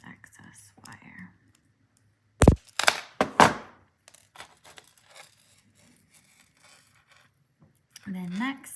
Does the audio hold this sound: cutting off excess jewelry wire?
yes